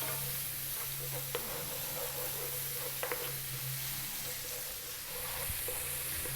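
Black pepper and salt sizzle in a pan over above-medium heat, a steady broadband hiss with a few faint clicks of a utensil, no voices.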